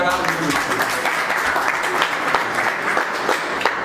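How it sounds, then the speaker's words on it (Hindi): An auditorium audience at a Bhojpuri poetry event bursts into dense, continuous applause, a steady wash of many hands clapping at close range with no pauses. "जोरदार तालियां बजाइए"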